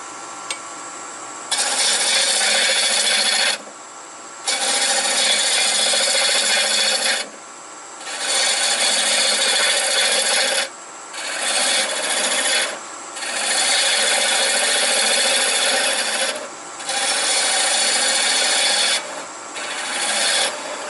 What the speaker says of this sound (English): I can take it down quite a bit more with just the gouge.